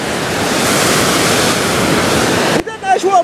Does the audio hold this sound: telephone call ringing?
no